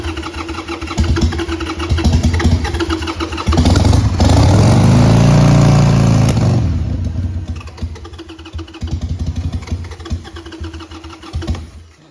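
A 1997 Harley Davidson 883cc Sportster XL883 Hugger, running on starting spray with no fuel, sputters and revs loudly up close, surging to a roaring peak mid-way before falling back to an uneven idle, no talking.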